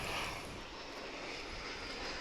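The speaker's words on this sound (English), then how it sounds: "That's American Flight 1550 coming in from Las Vegas in Airbus A321" An American Airlines Airbus A321 landing at DFW sends a steady, moderately loud jet roar with a hissing top, continuous and without speech.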